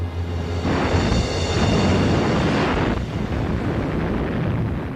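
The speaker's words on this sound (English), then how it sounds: "A series of devastating explosions rocked the Scharnhorst as the torpedoes found their target." Torpedo explosions hitting the battleship Scharnhorst: a deep, heavy blast roars and rumbles, swelling into a sustained booming wash that slowly fades, loud and without any speech.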